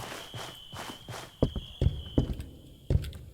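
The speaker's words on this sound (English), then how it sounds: "Different footstep sound, different material." Footsteps on a different material in the video game Nocturnal Visit land in a steady walking rhythm of about eight close, dull thuds, the later ones sharper, over a faint sustained tone.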